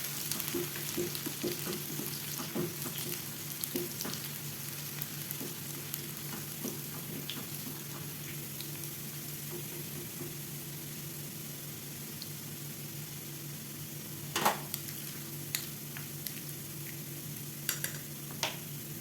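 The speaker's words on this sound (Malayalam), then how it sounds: "നന്നായിട്ടൊന്ന് സോട്ട് ചെയ്തെടുക്കാം." Finely chopped garlic is sautéed in a pan, giving a continuous low, even sizzle with scattered faint crackles and a couple of brief clinks of the utensil toward the end.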